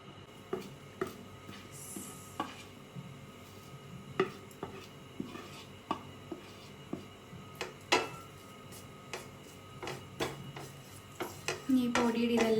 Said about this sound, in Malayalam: ഇനിയിപ്പോൾ നമുക്ക് ഇതും കൂടിയൊക്കെ ഇട്ട് മിക്സ് ചെയ്ത് ഇതൊരു മസാല പരുവത്തിൽ ആക്കിയെടുക്കാം